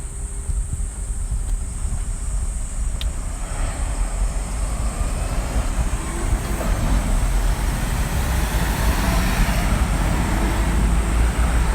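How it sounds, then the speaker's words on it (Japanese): Steady road traffic noise of cars driving past, a dense continuous rumble that holds at an even, fairly loud level throughout with no voices. "こうやって車が走り出すとかなり、音 が 騒音が激しくなってくるわけですが"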